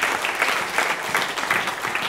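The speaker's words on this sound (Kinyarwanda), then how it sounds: "amashyi menshi" Steady applause from a church congregation, many hands clapping together in a dense, even wash that holds at a constant level for a couple of seconds without any voices over it.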